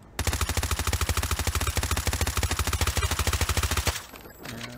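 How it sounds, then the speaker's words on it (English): Rapid automatic weapon fire in a video game, a steady burst of evenly spaced loud shots lasting about four seconds before stopping abruptly, heard alone and up close. "I'm just going to click the fire button."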